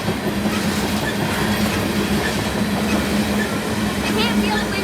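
A BNSF freight train, with tank cars hauling crude oil, rushes past at speed on the Spokane Subdivision, a loud, steady rumble and clatter of wheels on rail lasting throughout without letup.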